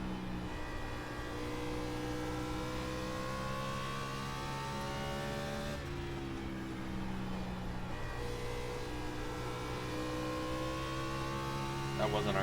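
A race car in the iRacing video game takes a corner at Bristol in a Maconi B-Open race, giving a steady, droning engine note with rising and falling pitch throughout and a brief dip partway.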